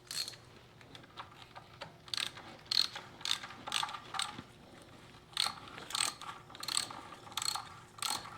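A ratchet wrench with a socket works on a fastener of a Farmall Super M tractor, giving close, rhythmic bursts of clicking as the handle swings back and forth.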